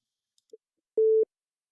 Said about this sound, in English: Let's say I'm gonna generate a tone.